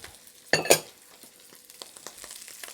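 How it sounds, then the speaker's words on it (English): Onions, celery and carrots dropped into a hot soup pot for beef soup, giving a loud burst of sizzle with a clatter as they land, then settling into a quieter, crackling fry. "I'm going to throw in the onions, celery,"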